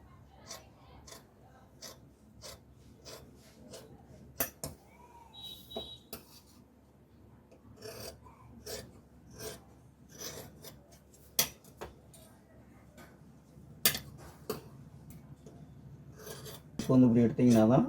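Scissors cut the neckline of a sleeveless school uniform coat in fabric, a quiet run of rasping snips and fabric rustles with irregular spacing and a louder burst of handling noise at the very end.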